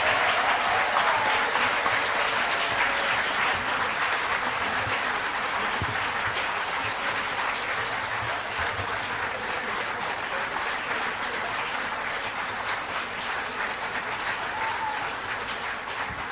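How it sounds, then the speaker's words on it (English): Prolonged audience applause after a speech at a political debate at the Tollygunge Club, Kolkata, a dense, even roar of clapping from a large crowd that holds steady and loud for many seconds. "I didn't want to disturb the applause."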